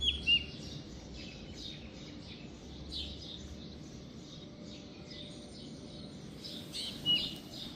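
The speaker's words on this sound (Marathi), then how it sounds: "आणि इतकं भारी आवाज राहिला चिमण्यांचा" Sparrows chirp in a garden in the morning after rain, giving faint, repeated high tweets scattered over a soft, steady background hum.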